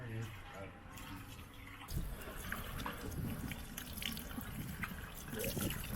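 Water runs and trickles steadily, close and moderately loud, with a splashing fill sound and people talking over it.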